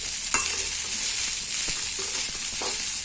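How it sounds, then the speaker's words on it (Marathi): Sabudana khichdi is stir-fried and mixed in a pan, with a soft continuous sizzle and scattered spatula scrapes and taps over about three seconds, close up and without talk. "याला आता व्यवस्थित आपल्याला परतवून घ्यायचं आहे, जेणेकरून यामध्ये जे जिन्नस आपण वापरलेले आहेत ते सगळे यामध्ये मिक्स व्हायला हवे"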